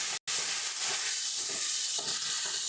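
Water poured into spiced mixed vegetables in a hot pan, giving a steady close broadband sizzle and hiss that runs throughout after a brief instant of silence, with no voices.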